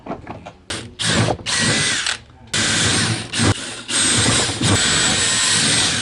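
Drill bit boring into wood for a temporary router table, heard as loud bursts of power-drill whine that stop and restart several times, near and alone.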